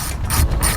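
An 8mm socket on a ratchet tightening interior bolts in a Ford Bronco, a short burst of close, loud ratcheting clicks in quick rhythm with no talk.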